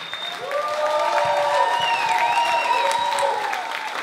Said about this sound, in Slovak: Veľký potlesk pre vás od našich umelcov.